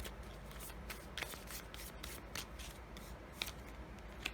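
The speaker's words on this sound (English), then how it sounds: "I'm going to draw just 1 or 2 cards on that." Tarot cards are drawn and shuffled from a deck, with soft rustling and a few light flicks over a steady hiss.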